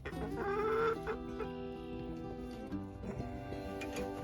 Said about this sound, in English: What's that rooster doing?